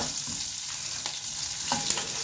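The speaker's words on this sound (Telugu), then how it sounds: "పచ్చిమిరపకాయలు కూడా ఈ వేడికి వేగుతాయి, అవి సరిపోతాయి" Green chillies sizzle in hot oil in a pan after the stove is switched off, a steady close crackle with light stirring scrapes and a couple of brief clinks.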